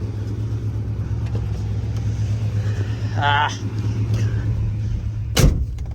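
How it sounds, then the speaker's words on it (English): A 1967 Chrysler 300 engine runs at a steady low rumble, close and continuous, with a few faint clicks and a sharp knock near the end. "Now it's running a little bit better with better gas."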